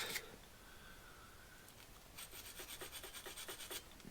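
Gunk is scrubbed out of a vintage motocross bike part during seal maintenance, a faint brisk burst of rapid rubbing strokes after a brief scrape, quiet and close with no talk.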